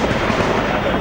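A grenade blast from news footage of a militant attack on CRPF personnel in Pulwama, Kashmir, heard as a loud, dense, sustained roar of explosive noise that fills the whole second with no clear gaps.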